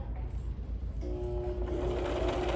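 A sewing machine stitches down the length of a fabric face mask, starting with soft mechanical ticking and settling into a steady, rapid whirring run.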